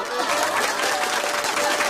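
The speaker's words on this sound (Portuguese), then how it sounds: "Vamos aplaudir!" Audience applause for a comedian telling humorous stories at a live show, a dense steady wash of clapping with some crowd noise throughout.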